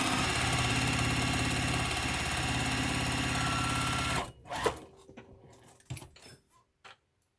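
A sewing machine stitches a seam on a churn dash quilt block, running in a steady, fast whir for about four seconds before stopping, followed by faint handling clicks and rustles of the fabric.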